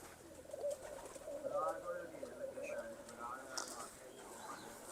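Pigeons cooing in a loft near the Ganda Singh border, soft repeated low coos over a steady murmur of birds, with people talking nearby.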